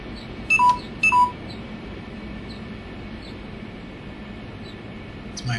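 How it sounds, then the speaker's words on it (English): Two short electronic beeps from a phone warning of low battery, sounding close together near the start over a steady hum of cockpit noise, followed by a quiet stretch and a faint sound at the end. "It's my phone saying that it's got low battery."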